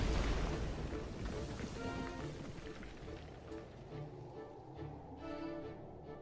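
Raikou smashing up its cave in the video game Pokemon Pokopia, a heavy crashing burst loudest at the start that trails off into rumbling debris and scattered game effects.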